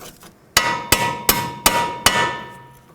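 A hammer drives bolts out of the front steering knuckle of a 2007-2009 Saturn Aura, five sharp ringing metallic blows in an even rhythm, close and loud, each one followed by a short decaying ring.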